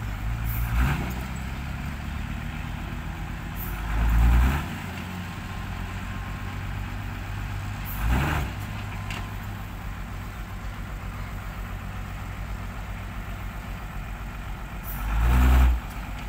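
Ten-wheel dump truck idling while unloading soil, a low steady engine rumble with a few heavier thumps and surges, moderately distant and alone.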